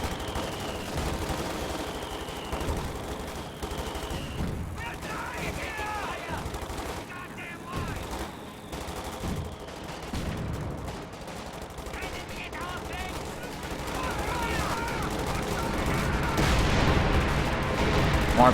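Sustained gunfire and distant explosions in a World War II combat video game with P-47 aircraft and mortars, dense and continuous over a rumbling battlefield backdrop, building louder toward the end.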